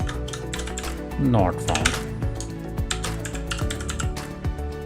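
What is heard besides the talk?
typing on a computer keyboard in Excel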